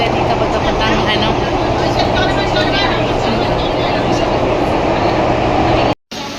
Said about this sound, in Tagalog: Ang ganda ng train nila dito pagkapuntang ano.